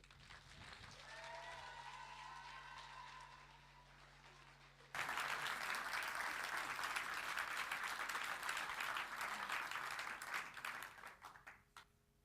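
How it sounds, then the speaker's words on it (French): A seated audience breaks into loud, dense clapping that swells suddenly after a quieter stretch, holds steady for several seconds, then thins and fades out. "Merci de l'applaudir bien fort"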